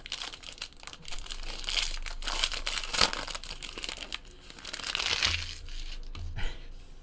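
Crinkly foil crackles and tears continuously as a 2017 Panini Encased football card pack is opened up close, with a few sharper rips and crunches along the way.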